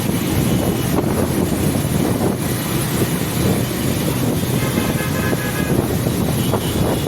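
Busy street traffic in Moghbazar, Dhaka, with a dense wash of engines and wind buffeting close by, and short horn toots breaking through now and then.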